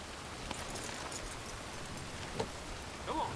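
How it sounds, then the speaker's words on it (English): Borderline freezing rain in Red Dead Redemption 2 falls as a steady, faint hiss with scattered soft drop ticks, continuous and even throughout. "It's borderline freezing rain here."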